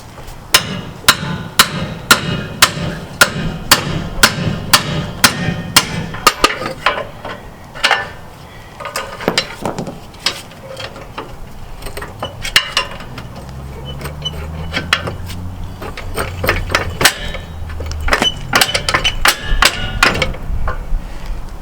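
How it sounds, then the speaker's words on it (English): Loud metallic hammer blows ring out on a 1975 Dodge tow truck in a fast, even series, then continue irregularly with scattered strikes and a low engine-like rumble between them. "Hit it with the hammer."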